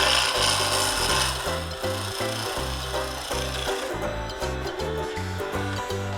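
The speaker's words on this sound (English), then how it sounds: "I'm just getting the bevel on, and then I raise it to get the cut." A woodturning gouge back-hollowing a spinning wooden bowl on a lathe makes a loud, continuous scraping and cutting noise over the steady hum of the lathe motor, with no one talking.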